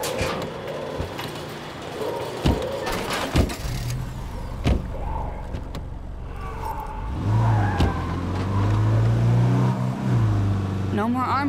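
A car drives in State of Decay 2, its engine a steady low hum that rises toward the end, with occasional knocks and thumps as voices talk over it.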